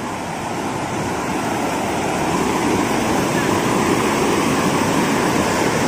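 A muddy river swollen by heavy rain in the hills rushes in a loud, steady roar that fills the whole scene without break, with faint voices at times.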